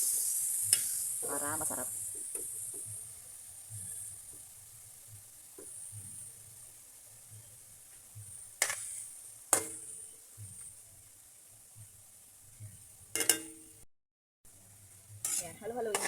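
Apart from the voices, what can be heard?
pork steak stir-frying in a pan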